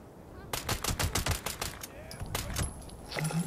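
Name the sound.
automatic gunfire in video game Fallout 76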